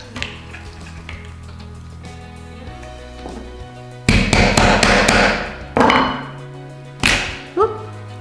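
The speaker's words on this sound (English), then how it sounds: "Might have to hammer that" A wheel being hammered onto a wooden kebab-skewer axle for a homemade balloon racer: a quick burst of several sharp, close taps, then a couple of single knocks with brief pauses.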